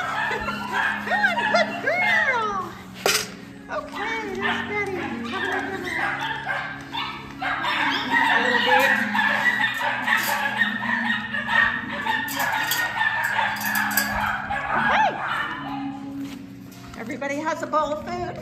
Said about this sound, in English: Some puppies are just making a lot of noise.